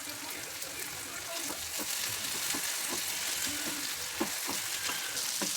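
Ginger garlic paste frying with onion and tomato in a pan for egg rice, giving a steady broadband sizzle with scattered stirring scrapes and clicks throughout.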